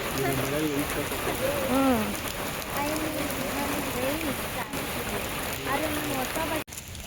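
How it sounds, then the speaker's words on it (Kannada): Heavy rain pours down in a steady, dense hiss at Cubbon Park, Bengaluru, with a voice talking over it throughout. "ಚೆನ್ನಾಗಿ ಮಳೆ ಹೊಡಿತಾ ಇದೆ"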